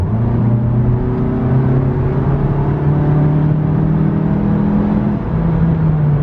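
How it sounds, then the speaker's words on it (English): A 2017 Mazda CX-3 GT engine roars steadily at high revs at full throttle, a loud continuous drone with rising tones, close up and without voices. "So my foot's not on the gas, and then I floor it."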